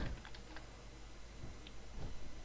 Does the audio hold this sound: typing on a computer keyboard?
yes